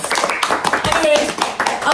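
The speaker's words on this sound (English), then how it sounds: "Round of applause for Marco for being here." A round of applause at a Secret Santa gathering: a short, dense burst of hand clapping from a small group nearby, mixed with talking voices.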